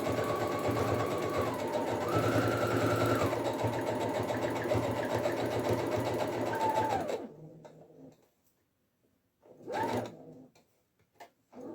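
A sewing machine runs steadily while stitching cotton fabric for a handmade doll. Its motor hums continuously for about seven seconds, then stops, and a few brief, quieter mechanical clicks and handling sounds follow.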